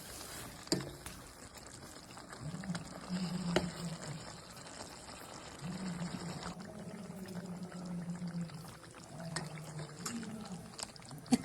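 Water is poured into radish sambar cooking in a pot, a soft, steady trickle heard close but faint over low kitchen background noise, with no talking.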